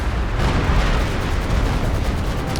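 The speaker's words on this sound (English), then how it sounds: "Stuka barrage." Stuka dive-bomber barrage explosions from the video game Company of Heroes 2, a steady loud rumble of overlapping blasts and booms filling the whole stretch with no pauses and no talk.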